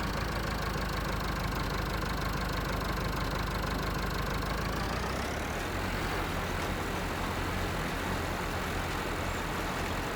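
A tractor engine in the Farming Simulator video game runs steadily and loudly with a dense mechanical drone, then shifts in pitch about halfway through as the revs change, continuous with no talk.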